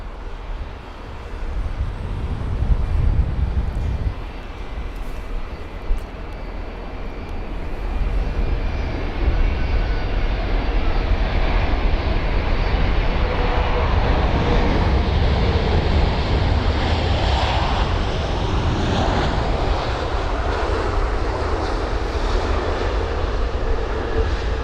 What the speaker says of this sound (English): we'll focus on the Icelandair 757, seeing as that is taxiing right in front of us